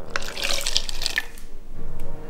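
A drink being poured, a close splashing, trickling stream with bright liquid gurgles that fade and then briefly return, loud and alone with no talking.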